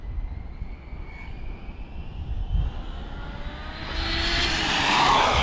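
An HPI Maverick RC car geared for speed on a 4S battery makes a high-speed pass in windy outdoor conditions, its whine rising and growing louder toward the end as the car approaches.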